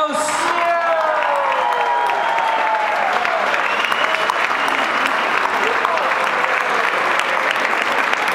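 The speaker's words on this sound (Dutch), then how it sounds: "Ik zou zeggen, geef u nog één keer iedereen een weergeloos applaus." A poetry slam audience at a national championship event claps loudly and steadily, a sustained wave of applause with some cheering and whooping voices rising over it near the start.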